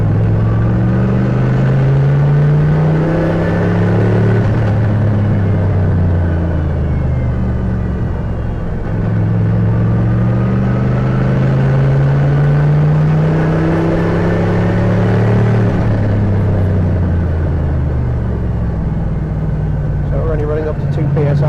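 Turbocharged Toyota 1UZ V8 engine running loud and close under throttle, its pitch rising and falling through repeated rev sweeps as boost builds, with a steady rumble throughout.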